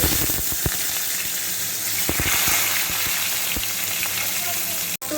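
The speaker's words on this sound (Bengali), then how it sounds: "এবার আমি নুন হলুদ মাখিয়ে রাখা পটলগুলোকে দিয়ে হালকা হালকা করে ভেজে নেব" Pointed gourd pieces coated in salt and turmeric fry in a wok of oil with a loud, dense, continuous sizzle and a few sharp pops and stirring knocks.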